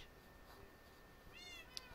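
Kittens in a survival video game give a couple of brief, high meows near the end, faint against a low background hum.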